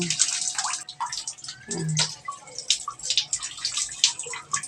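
Water splashes and pours in an irregular stream while a blind woman is helped to bathe, with scattered drips and a brief voice.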